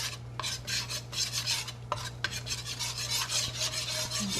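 Flour and oil, equal parts, being stirred together in a pan for a Southern-style roux, giving a steady rasping, scraping rhythm of repeated strokes, close and fairly loud with a low hum underneath.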